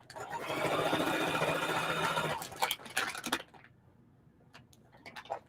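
A heavy-duty sewing machine with a heavy-duty needle stitches a feedbag into a tote: a steady, fast mechanical whir runs for over two seconds, then stops, followed by clicks and light handling noises.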